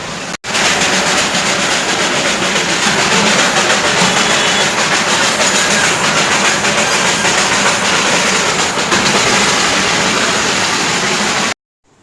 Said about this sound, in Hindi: चलो थोड़ा सा ट्रेन का जो ये आवाज़ है एंजॉय करते हैं